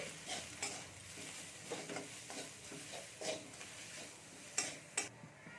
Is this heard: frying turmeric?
yes